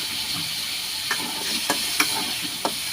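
Taro stolons frying in oil with salt and turmeric as a spatula stirs them in a pan, giving a steady close hiss broken by a few sharp scraping clicks.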